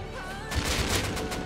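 Rust PvP gunshots ring out in a quick cluster of sharp, moderately loud cracks after a quiet start, with a faint voice in the background.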